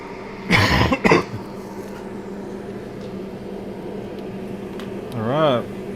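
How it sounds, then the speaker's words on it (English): Two quick, close coughs near the start, then a low hum of background noise and a brief throat-clearing sound toward the end. "Got a cough."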